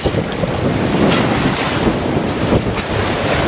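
A sailboat under sail in the Yasawa Islands of Fiji, with loud continuous wind buffeting the microphone over the rush of waves and water along the hull, and no voices.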